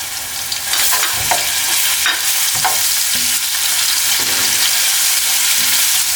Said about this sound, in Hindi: लहसुन डालना है। ये हल्का सा इनको रोस्ट करना है।